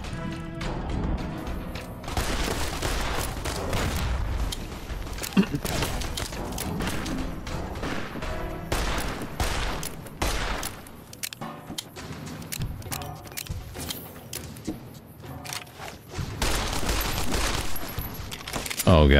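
Gunfire in Fallout New Vegas, video game combat with loud rapid volleys and repeated shots in bursts across the span, some heavy thuds, brief lulls between exchanges, and a voice present at times.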